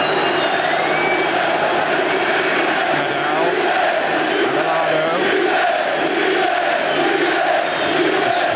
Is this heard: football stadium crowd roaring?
yes